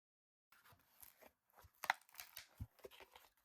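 A craft knife scores along a ruler during bookbinding spine work, a sequence of short, irregular scratchy strokes and light taps, close and quiet, with nothing else heard.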